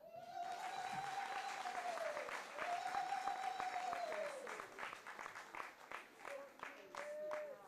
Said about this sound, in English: for that spontaneous round of applause